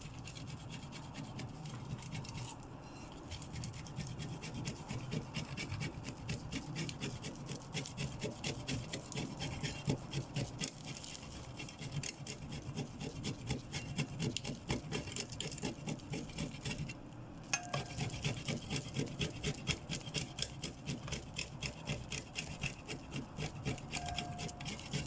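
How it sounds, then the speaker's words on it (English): Parmesan cheese is rubbed against a grater for pasta sauce in a continuous, close, rhythmic scraping that lasts the whole stretch, with no talking over it. "I'm gonna grate some Parmesan cheese for our pasta sauce."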